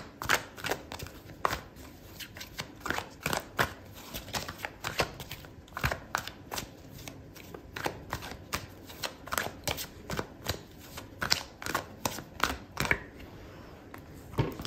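Tarot cards shuffled and laid down during a reading, a long run of quick papery flicks and soft slaps, close and fairly quiet, with no talking.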